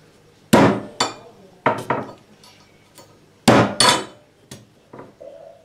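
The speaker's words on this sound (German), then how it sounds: "Und nageln das hier so ein bisschen fest." Several sharp hammer blows nailing down a workpiece for a homemade wooden seax sword, arriving in uneven pairs and singles with short pauses, close and ringing slightly.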